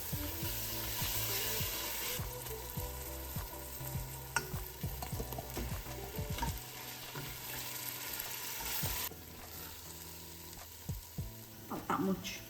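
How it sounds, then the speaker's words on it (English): Onions, ginger-garlic-chili paste and tomatoes sautéing for chicken biryani over a low flame, a continuous sizzle with frequent spoon scrapes and stirring knocks; the sizzle drops quieter partway through, and soft sounds occur near the end. "Saute on a low flame so you don't burn the spices"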